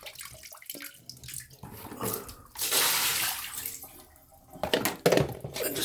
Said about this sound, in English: I'm gonna dump this water.